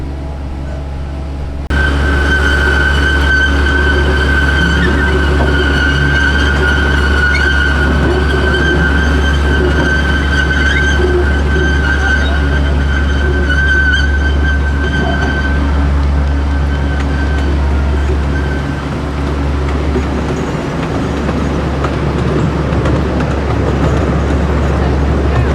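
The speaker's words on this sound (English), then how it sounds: "Just getting underway, I think the train only goes about the speed of someone walking" The Opelika excursion train in Alabama rolls slowly at walking pace, giving a steady, loud low rumble with a sustained tonal whine running for about two thirds of the time, heard from on board.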